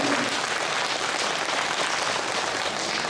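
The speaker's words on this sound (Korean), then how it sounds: "박수로 환영해 주십시오" A church congregation at a Sunday morning revival service applauds in welcome, a steady dense wash of many hands clapping that fills the room evenly from start to finish.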